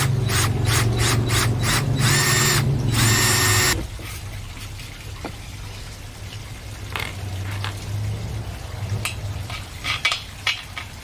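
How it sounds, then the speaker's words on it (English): Power drill boring holes through a solar panel frame on a campervan, with scrap wood underneath; a loud continuous whir with bursts for about four seconds, then quieter mechanical handling noises and intermittent clicks. "To drill these holes"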